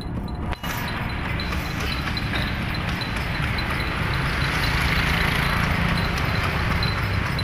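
A horse pulls a tourist andong carriage around the Alun-alun in Bondowoso, its hooves clopping steadily and close amid a constant wash of street and traffic noise.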